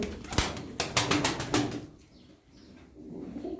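Tumbler pigeons in a loft: a burst of sharp wing flaps and clattering close by, then quieter soft cooing and rustling as the birds settle.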